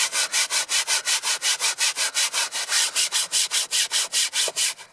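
Brush scrubbing a car interior during detailing, about twenty quick, even back-and-forth strokes in a steady rhythm, close and clear with no talking.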